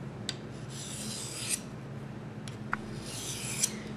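A knife blade rubs across a 600 grit red sharpening stone, two soft gritty rasping strokes with small clicks between, close and quiet.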